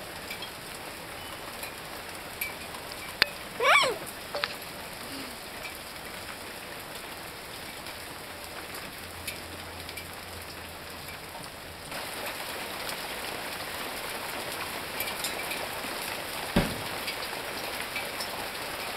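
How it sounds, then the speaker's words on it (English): Hail falls in Studio City in a steady, dense patter on outdoor surfaces, moderately loud and continuous, with a few sharper knocks and a brief squeak near the start. "It's hailing in Studio City."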